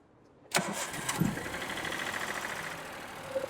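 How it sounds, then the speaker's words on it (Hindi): A Maruti Alto engine cranks with a sharp burst of starter noise, then catches and settles into a steady, fairly loud idle with a mechanical knocking tone running underneath, heard close by with no talking. "तो साउंड जब हमने देखा तो इसका क्रैंक का साउंड आ रहा है।"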